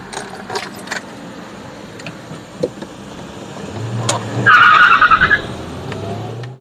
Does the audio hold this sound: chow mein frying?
no